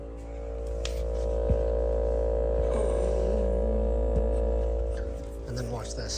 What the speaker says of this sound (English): This is what our fridge sounds like right now.